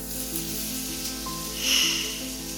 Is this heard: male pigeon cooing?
no